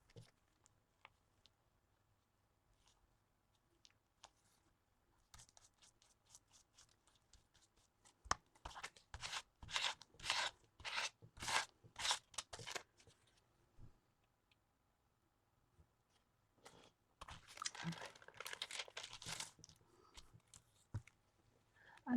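Sticky wax paper is folded and crinkled by hand in two quiet clusters of rapid crackles, separated by near silence.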